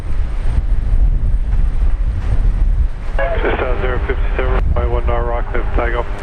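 A jet airliner takes off from runway 19 right at Brisbane Airport, a steady loud broadband engine roar throughout, with radio and spoken voices talking over it in the second half.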